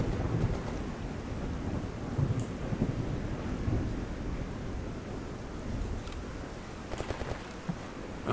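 Heavy rain pours during a thunderstorm in the video game Escape From Pripyat, a constant dense roar with rolling low rumbles and a few sharper cracks of thunder, steady throughout with no voices.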